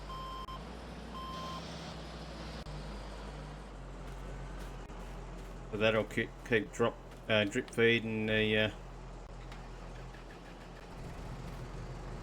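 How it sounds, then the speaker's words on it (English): A tractor idles in the video game Farming Simulator 22 on the Yukon Valley map while it powers a conveyor belt, a steady low engine drone under someone talking, with a short run of beeps partway through. "I'll just have to turn the tractor on so I can get that conveyor belt working"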